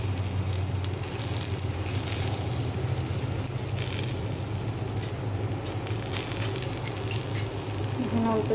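Onions frying in mustard oil in a home kitchen, with a steady loud sizzle and crackle running throughout and light patter from the pan.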